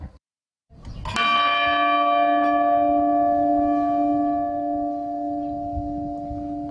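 A large bell in France's Aube wine region strikes once after a brief silence, its deep, rich tone ringing out and slowly sustaining with a long, shimmering hum.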